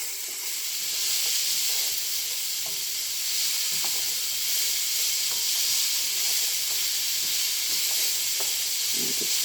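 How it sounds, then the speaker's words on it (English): Sliced carrots and garlic sizzle steadily in olive oil in a pan, a loud, continuous frying hiss with faint crackles and occasional light stirring clicks throughout. "Incorporating the carrots in with the garlic and the olive oil that's in the pan."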